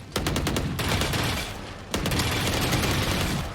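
Rapid automatic gunfire in the shooter Valorant: a loud, sustained stream of shots that pauses briefly, then resumes just as dense and close.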